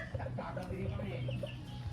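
A fighting rooster kept for cockfighting clucks in short, repeated bursts at close range, with a low background murmur throughout.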